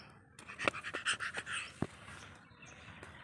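A dog pants in short, quick breaths close by, a rapid irregular burst of huffs over a couple of seconds with a sharp sniff or snort in the middle, then quieter breathing.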